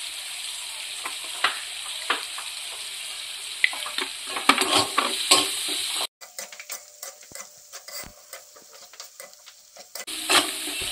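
Onions frying in a pan with a spoonful of salt and turmeric for a chicken curry, a soft continuous sizzle with scattered stirring clatter; partway through the sound drops and resumes more sparsely, with no talk.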